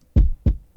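Three shortened kick drum hits, each deep thump clipped short with a quick fade-out, evenly spaced in a steady rhythm, close and punchy with no voices.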